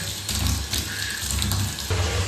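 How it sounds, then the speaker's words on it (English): Water runs steadily from a bath tap into a filling bathtub, a loud, close, continuous gushing rush with slight surges and no voices. "Oh, wait, because the shower turned on"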